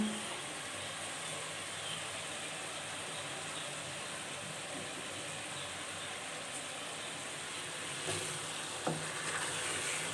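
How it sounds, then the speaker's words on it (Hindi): Afghani curry simmering in a pan on a medium flame, a soft continuous bubbling sizzle, quiet and close, with a couple of faint clinks near the end. "10 मिनट हम इसको हल्की आंच पर पकाएंगे।"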